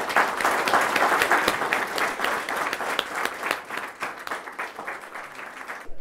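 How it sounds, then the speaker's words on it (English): Audience applause after a talk session at a Bhutan dialogue event on values and equality: a dense, steady roar of many hands clapping, loud and sustained for several seconds before cutting off abruptly at the end. "let's give a round of applause to Swamiji."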